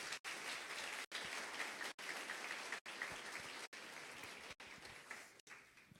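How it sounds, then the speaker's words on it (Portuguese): An audience at a tech park launch event claps in a steady crackle of applause, interrupted by brief regular dropouts, fairly faint and distant overall. "Uma salva de palmas, pronto."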